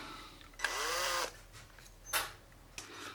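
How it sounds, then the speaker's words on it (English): Electric drill used in place of a Dremel indoors, with a short whirring spin-up that rises in pitch, then a couple of brief bursts of grinding or buffing, close by with no voices. "so I'm going to try Dremeling with the drill."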